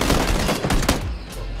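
Dense gunfire erupts in the video game PUBG, a close, loud rapid volley of shots that tapers off after about a second.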